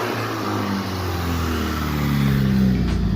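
Volkswagen GTI with an upgraded exhaust revving hard, a loud, close engine drone rising in pitch as it builds, with a faint diverter valve whoosh near the end.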